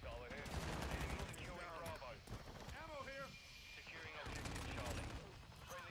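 A VTOL gunship firing in Modern Warfare 2 as a rapid, sustained barrage of gunfire with rattling mechanical clatter, running through the whole stretch under other game noise and voice chatter.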